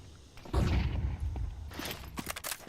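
AK-47 gunfire in a Counter-Strike pro match: a few sharp shots and short bursts at moderate distance amid game noise, quiet overall.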